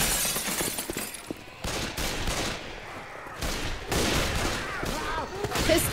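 Rapid bursts of gunfire from the video game Left 4 Dead 2 crack out in quick volleys with brief gaps, close and loud, mixed with chaotic game effects and occasional voices.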